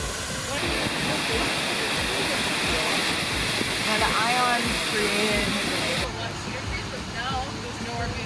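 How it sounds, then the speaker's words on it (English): Steady, loud rushing water from a nearby waterfall in Toba Inlet, British Columbia, fills the whole stretch, a constant roar with faint bird-like chirps above it. "There are some beautiful waterfalls, and the skiffs allow us to get right up close to them"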